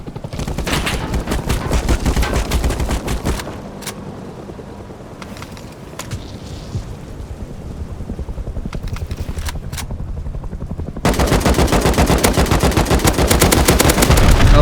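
Attack helicopter in the modded Rust video game firing rockets and strafing with rapid automatic gunfire, loud dense bursts at the start and again at the end, with a quieter stretch of scattered shots and impacts between.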